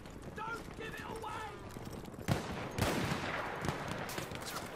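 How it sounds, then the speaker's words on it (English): Gunfire crackles in the Battlefield 1 beta multiplayer shooter: a few sharp shots and short bursts ring out over steady battlefield din, moderately close, while a player's voice is heard. "gunshots are being fired"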